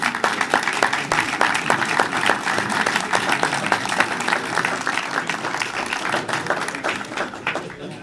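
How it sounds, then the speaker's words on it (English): A crowd at a city council meeting gives a sustained round of applause with sharp individual claps audible in the mix, while voices murmur faintly underneath. "One more round of applause if we could, please"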